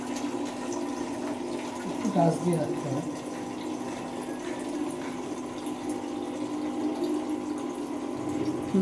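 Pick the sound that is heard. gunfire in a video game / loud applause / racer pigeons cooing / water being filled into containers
water being filled into containers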